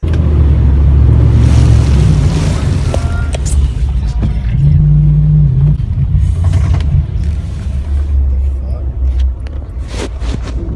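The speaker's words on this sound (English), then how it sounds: "that might have been my engine" A loud, low drone and rumble from a Toyota Tundra's 2UZ-FE 4.7L V8 engine runs throughout with a steady hum, while a person talks over it.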